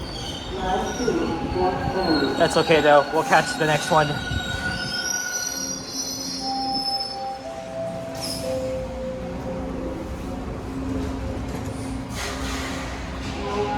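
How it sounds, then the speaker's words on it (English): A westbound Toronto TTC subway train rumbles into Dufferin Station, its wheels squealing in long high-pitched tones over steady rail noise, with a person speaking briefly near the start. "here comes the westbound train now, on the other side."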